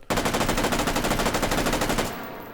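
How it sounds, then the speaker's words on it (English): A FAMAS rifle fires on fully automatic in a VR game, a fast, loud, evenly spaced burst of roughly twenty shots that stops abruptly and leaves a short fading tail. "let's go ahead and shoot it off a little bit more, but this time we're going to throw it in fully automatic"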